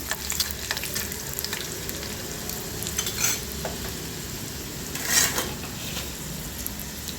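Garlic and curry leaves sauté in a pan for onion-tomato chutney, with a continuous close sizzle broken by a couple of louder spatters and the scrape of a spoon stirring.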